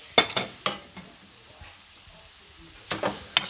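Fresh spinach tossed into a hot pan sizzles in short rustling bursts as it is stirred, with quieter stretches of low frying between the louder scrapes and clatters.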